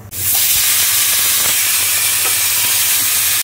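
A pressure cooker whistle releases steam in one loud, close, continuous hiss that starts abruptly and cuts off sharply after about three seconds.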